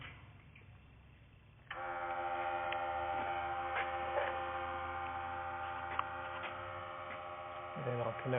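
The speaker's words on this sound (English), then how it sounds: "turn on the smoke machine" A smoke machine drones steadily during an engine vacuum leak test on a Volkswagen GTI, a constant tonal hum that switches on abruptly and holds at an even level, with a brief low rumble near the end.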